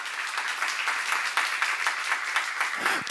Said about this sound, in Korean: 믿는 사람 박수 봐요